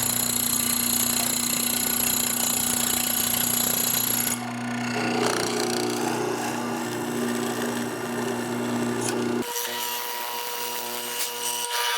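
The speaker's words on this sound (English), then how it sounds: "I've drawn a line in the center of each of my mortise locations to help me line up my mortising bit" A mortising bit cuts mortise holes into a wooden coffee table side piece, a steady loud grinding drone that holds for several seconds, shifts pitch, then continues after a brief change, with no talking.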